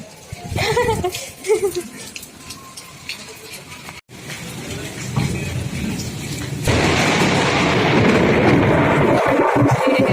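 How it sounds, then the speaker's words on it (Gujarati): A summer hailstorm's rain pours steadily and grows heavier partway through, with a low rumble of thunder from a nearby lightning strike, while voices call out near the start. "વીજળી પડી. હો પડી, ડેન્જર પડી."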